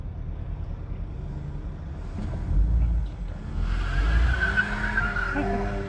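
A VW Golf 8 GTI accelerates hard, its engine note rising and swelling under road and tire noise, heard from inside the car at moderate volume.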